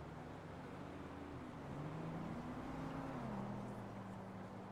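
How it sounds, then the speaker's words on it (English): Cars drive through the streets in the video game GTA V, a faint low engine drone whose pitch slowly rises and falls as the vehicles pass at a distance. "I hear cars."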